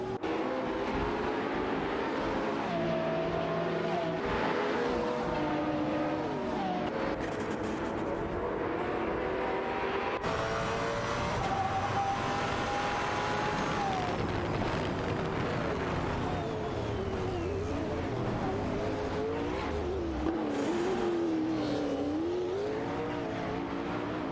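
Several race car engines in an AI-driven race drone and whine together as the cars jockey for position, their pitches sliding up and down through gear changes in a continuous, moderately distant roar.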